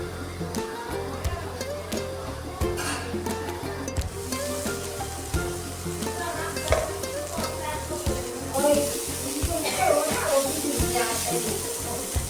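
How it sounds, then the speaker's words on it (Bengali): A spiced mixture with dried chilli powder fries on a low flame for a vegetarian pumpkin-stem curry: a close, continuous sizzle broken by repeated scraping and knocking of a spoon stirring in the pan, with no speech. "লো ফ্লেমে রেখে 4 থেকে 5 মিনিটের মতন ভালো করে ভেজে নেব।"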